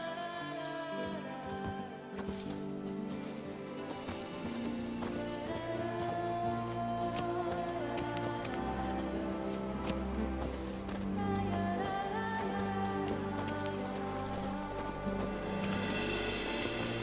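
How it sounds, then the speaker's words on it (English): Hooves clop in a steady rhythm as a horse moves through the game world of The Witcher 3, mixed under music and ambient sound, with a voice talking briefly. "Even a horse drops if you ride it with a constant gallop."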